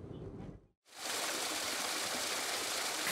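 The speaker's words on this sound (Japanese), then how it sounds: "新鮮なお水が毎日こうこうと出ています" Fresh spring water gushing forcefully from the Taisetsu Asahidake spring water intake in Higashikawa, Hokkaido: a brief dip to near silence, then a loud, steady, broadband rushing of water close to the listener.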